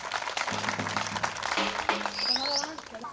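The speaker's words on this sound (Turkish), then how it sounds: "Bir alkış gönderelim efendim lütfen." A crowd at the opening of a Roma association in Gaziköy gives a round of applause, a steady patter of clapping mixed with voices and someone speaking over it.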